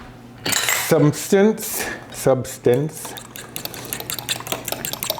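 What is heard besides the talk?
fork whisking mushroom soup mixture in a bowl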